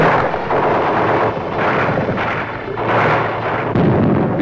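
Gunfire in city streets during the Vietnam War, heard as heavy booming bursts and rumbling blasts in archival war footage. The shots come in repeated waves over a continuous roar.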